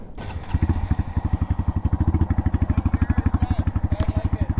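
A 2020 Honda Monkey motorcycle being ridden, its small single-cylinder engine pulsing in a steady, rapid thump that holds loud and close throughout, with a faint whine rising near the end.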